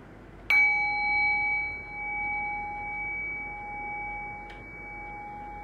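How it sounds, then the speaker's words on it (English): A meditation bell is struck once and rings clearly, its pure tone sustaining and slowly fading, with a faint second touch near the end and no talking. "I'll ring the bell."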